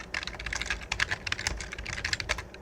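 Steady typing on a computer keyboard during a Moonlighter downpatch setup with DepotDownloader, a quick run of crisp close key clicks with slight pauses and no talking.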